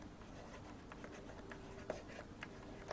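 Marker or chalk scratching out a definition on a classroom board, a faint continuous rubbing stroke with a few small taps, quiet and distant under a hissy room background.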